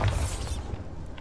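A Bombarda blast spell in Hogwarts Legacy goes off as a short, heavy boom with a rising shimmer and a shattering edge, then quickly decays into a low rumble.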